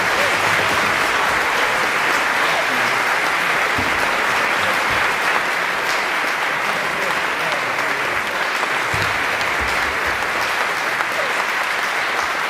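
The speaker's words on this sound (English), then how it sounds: "We'll keep the applause going for Sheku." Sustained, loud, even applause from a large audience for cellist Sheku Kanneh-Mason after a Melbourne Symphony Orchestra masterclass continues unbroken for over ten seconds, with a voice faintly under the clapping.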